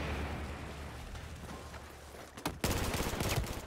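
FAMAS rifle gunfire in Battlefield 4 during an Operation Metro rush match: a dense, rumbling wash of game combat noise that breaks into a loud, sharp burst of shots about two-thirds through, then sustained heavy firing.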